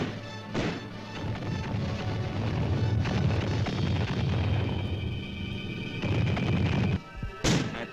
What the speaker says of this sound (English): At H-5, the artillery opens up. Along with mortars from the Combat Support Company.